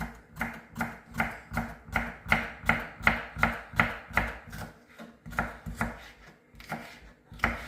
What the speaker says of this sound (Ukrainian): Тепер починаємо з овочів. Я так само ріжу їх.